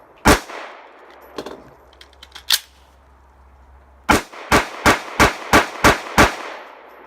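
Smith & Wesson Shield 9mm pistol fired at a range, a few spaced single shots followed by a rapid string of six or seven sharp, loud reports in quick rhythm, with no talking.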